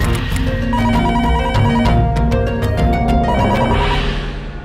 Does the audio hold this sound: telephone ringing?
yes